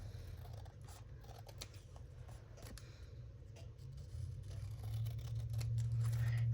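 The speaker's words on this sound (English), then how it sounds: "And I only have to cut down 2 sides." Scissors snip along two sides of paper for a travel journal, a steady close cutting rasp over a low background hum that grows louder toward the end.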